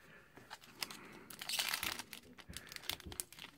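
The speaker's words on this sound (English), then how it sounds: "I'm gonna pack these cards up." Plastic wrappers crinkle and rustle in irregular bursts as trading cards from a Steam Siege booster box are packed away. The handling is close and fairly quiet, peaking in a denser crackling flurry midway, with no speech.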